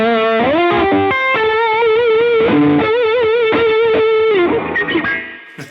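Electric guitar played through an Eventide H9 multi-effects pedal preset with a distorted, chorus-tinged sound, bending and sustaining notes in a loose melodic phrase that trails off at the end.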